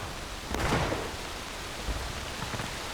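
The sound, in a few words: rain in War of Rights video game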